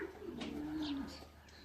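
A racing pigeon gives a single steady, sustained coo, close and clear against quiet loft background at the end of a 133 km race from Kalvarija.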